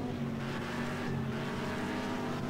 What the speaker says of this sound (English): The engine sounds really good.